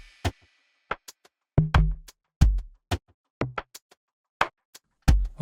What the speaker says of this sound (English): Let me solo the drum for y'all, and it sounds like this.